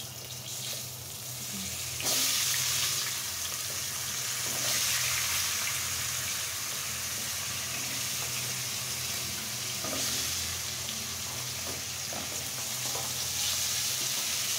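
Potatoes seasoned with salt and turmeric fry in a pan, a steady close sizzle that swells slightly at times and runs throughout.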